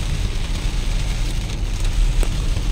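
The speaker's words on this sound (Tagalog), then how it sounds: "Lumakas ang ulan, malakas ang ulan." Heavy rain hisses and patters steadily on surfaces, a dense continuous wash of drops with a low rumbling undertone and no talk.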